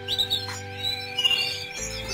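Caged breeding birds chirp and tweet in quick bursts, bright calls close by over a low steady hum, with no talking.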